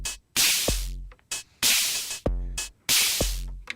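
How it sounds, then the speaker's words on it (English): Heavily distorted drum hits from an Akai Tom Cat drum machine play a short pattern: harsh, gritty snare-like bursts alternate with booming pitched tom or kick strikes, loud and close, with no voices. "it's just a massive amount of distortion."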